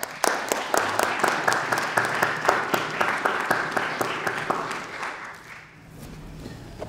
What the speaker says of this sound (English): So please join me in giving our two guests a round of applause.